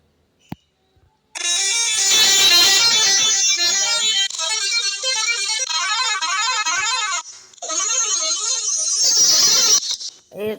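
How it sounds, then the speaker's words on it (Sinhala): Vehicle horns being swapped and tested in a Sri Lankan driving simulator game, loud sustained honking with shifting warbling melodic tones, several horn sounds in succession with brief gaps. "අපි හෝන් ටික මාරු කරගමු"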